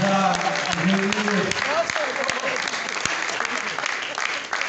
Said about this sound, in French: est-ce qu'on peut applaudir bien fort pour cette table?